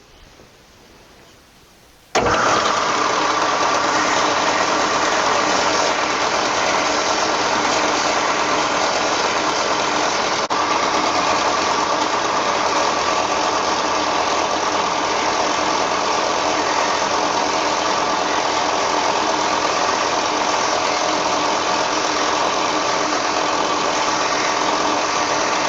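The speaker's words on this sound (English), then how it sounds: "I like to use a sander" A sander shapes a wooden hammer handle, switching on after a brief quiet moment and then running as a loud, steady, unbroken whir to the end.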